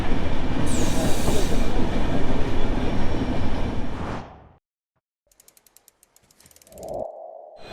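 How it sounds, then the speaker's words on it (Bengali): Ekota Express passenger train running at about 80 km/h on the Dhaka to Panchagarh route, a loud steady rumble of wheels and carriage that cuts out abruptly, leaving near silence with faint clicks before another mechanical hum rises. "আমাদের ট্রেন এখন ঘন্টায় 80 কিলোমিটার বেগে চলতেছে এবং ম্যাক্সিমাম 88 কিলোমিটার।"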